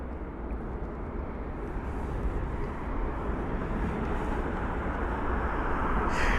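An SAS Airbus A350 airliner rolls out after touchdown at London Heathrow, a broad, steady roar of engine and runway noise heard from a distance that slowly builds in loudness.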